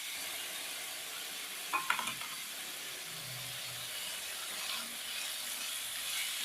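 Peppers sauté in a pan with a soft, steady sizzle and hiss, broken by a couple of brief utensil clinks near the start.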